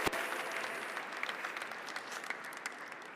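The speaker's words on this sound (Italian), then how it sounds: "Si applaude così." Applause from an audience at a regional remembrance day for innocent victims, a steady wash of many hands clapping that holds evenly and tapers slightly, with no one speaking.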